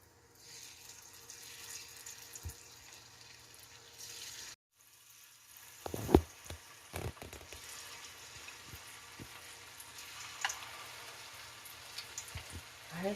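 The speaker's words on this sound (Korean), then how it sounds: "그러면 하나씩 옷을 입혀가면서 튀기세요" Steady crackling sizzle of battered pork deep-frying in hot oil, with bursts of louder popping as pieces drop in, no voices.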